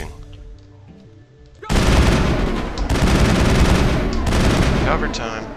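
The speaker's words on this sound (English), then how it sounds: "Just start shooting." Sci-fi gunfire from the video game Mass Effect: a loud, dense fusillade of rapid automatic shots in sustained bursts with brief gaps, over faint background game sound.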